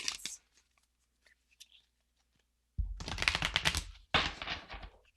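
Oracle cards riffle shuffled by hand in two quick close bursts of rapid flutter, the second following right after the first, with faint handling ticks before.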